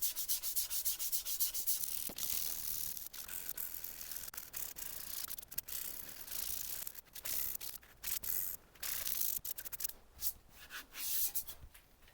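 A rotten-wood turned piece sanded by hand, steady close rubbing and scratching strokes that run almost continuously, fairly faint but alone.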